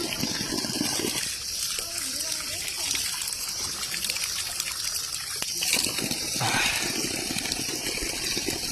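Spring water pouring from a stone spout at a hillside shrine to Shiva, a continuous close gushing splash with people talking over it.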